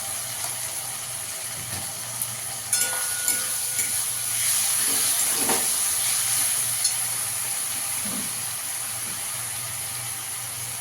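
Onions fry in a pan for mutton kosha with ginger-garlic paste added, giving a steady sizzle with a few soft clinks and scrapes of a spoon, close and moderate, without talking.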